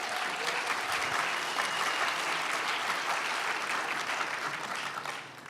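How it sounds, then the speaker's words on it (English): A Portland civic forum audience gives a round of applause, dense and sustained clapping from a crowd, alone and fairly distant, tapering slightly at the end. "just want to give a round of applause to folks here today"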